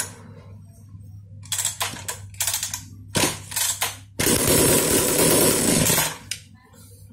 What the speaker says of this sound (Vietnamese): Máy này khiếp lắm, tiếng nổ nó khiếp lắm,